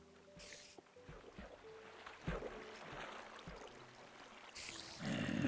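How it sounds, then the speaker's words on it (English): Water splashing in a Minecraft mob grinder built on Xbox 360, a steady rushing wash of game water with intermittent low thumps and tones, louder bursts near the end. "Now, there's lots of splashing going on."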